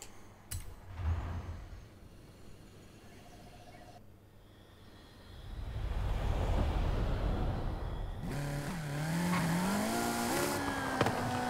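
A 2017 Alfa Romeo Giulia Quadrifoglio in Forza Horizon 5 drag racing, engine rising from idle into a loud acceleration with shifting pitch and revving, steady and close throughout.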